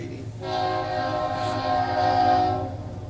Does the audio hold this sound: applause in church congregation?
no